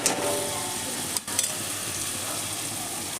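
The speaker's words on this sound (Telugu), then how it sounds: "బఠానీస్ కూడా మంచిగా నూనెలో ఫ్రై అయ్యే వరకు ఒక 5 minutes వేయించుకోవాలి." Green peas fry in hot oil in a pan for a cauliflower curry, giving a loud, steady sizzle close up with a couple of brief dips and a faint clatter.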